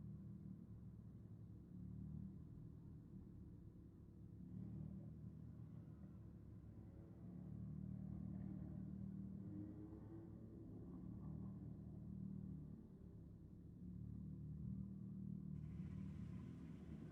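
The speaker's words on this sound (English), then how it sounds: "Nice burnout for the Falcon in the Rocket lane." A Ford FG Falcon at a drag race night does a burnout: a steady, distant engine rumble that swells and eases in long waves, heard alone.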